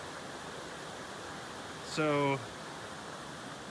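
A river roars steadily over a dam choked with branches on a canoe trip, a constant broad wash of water sound, with a voice speaking briefly over it.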